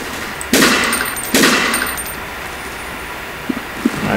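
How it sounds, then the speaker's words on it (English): Two loud gunshots ring out from a first-person shooter PC game, about a second apart, each with a short ringing tail. Quiet game ambience and a couple of faint clicks follow. "You can shoot out the wall and snipe them through the wall."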